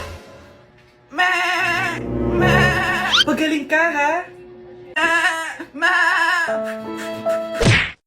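A goat bleats in several loud, wavering, drawn-out cries close by, interleaved with a spoken line in a comedic sketch setting.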